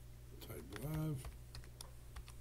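A short run of keystrokes on a computer keyboard is heard close up, and a brief voice passes over them partway through.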